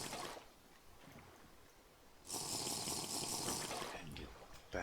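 Water being drunk in the survival game TerraFirmaCraft, a Minecraft mod, heard as a burst of bright watery gulping and splashing that starts midway and runs for about two seconds after a quieter stretch of low murmuring.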